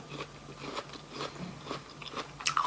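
Quiet, close crunchy bites and chewing of a fresh persimmon, several crisp crackling bursts spread across the clip with a louder crunch near the end.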